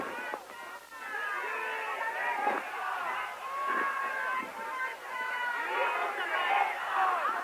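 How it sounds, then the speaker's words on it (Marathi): A large crowd at a Mumbai political rally for Aaditya Thackeray, gathered in support of Sonam Wangchuk, makes a continuous roar of voices with shouts and calls rising over the hubbub throughout. "मला वाटतं आजची ही तुफान गर्दी"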